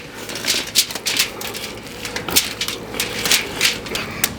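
A knife cuts and trims a deer hindquarter, making a run of quick scraping, crunching strokes in irregular bursts, close and fairly loud.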